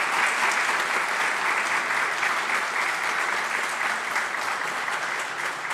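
Sustained audience applause for community rescuers at a live public event in the Dominican Republic, a dense, steady wash of clapping hands filling the whole stretch without a break.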